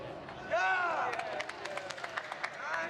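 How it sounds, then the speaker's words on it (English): A Paralympic boccia crowd at the Tokyo 2020 Games cheers a strong first ball from a Malaysian player, a sudden swell of voices and scattered claps that lingers at moderate volume across the hall. "You can hear the cheering."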